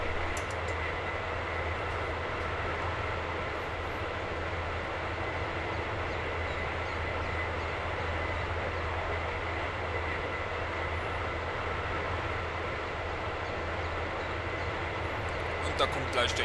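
A steady, continuous rumble of a train on the line near Hamm, Germany, holds at an even level throughout with no clear approach or fade, and a brief sharper noise sounds near the end.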